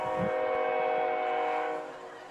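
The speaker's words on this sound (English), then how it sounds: "The one thing you can count on at Modoc Field is that Amtrak train coming by about this time every night." An Amtrak or freight train passes near a high school football field at night, its horn sounding in a loud sustained blast that fades slightly toward the end.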